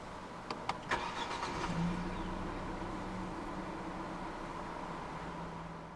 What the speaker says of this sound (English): press the start button to the right of the steering wheel